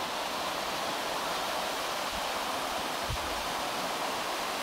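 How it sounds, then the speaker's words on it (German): Distant artificial waterfall by a mountain stream, a steady broadband rushing roar that holds constant throughout with no voices. "Das ist da hinten der Wasserfall. Der künstlich angelegte."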